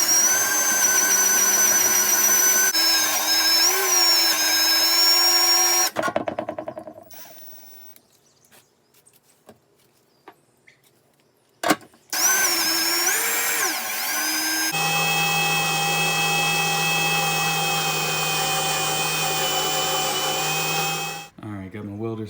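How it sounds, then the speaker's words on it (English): A power drill bores into an oil pan in long, loud whining runs. The pitch shifts as the bit bites and is interrupted by a quiet pause with small clicks and handling noises before the drilling resumes. "So we'll keep on drilling."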